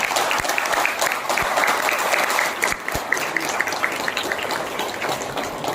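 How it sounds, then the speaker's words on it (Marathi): Steady audience applause fills a pulse-testing medical camp in Shahapur, a dense even clapping from a crowd of people, lasting throughout with a few louder individual claps standing out. "टाळ्या त्यांच्यासाठी वाजवा पाहिजे."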